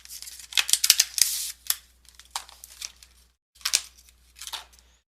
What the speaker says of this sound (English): So let's just rip into this box here.